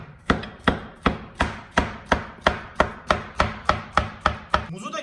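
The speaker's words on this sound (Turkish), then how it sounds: "Şimdi bunları da dilim dilim doğruyorum." A knife slices a peeled banana steadily against a cutting board, about a dozen crisp, evenly spaced cuts close up, with no voices.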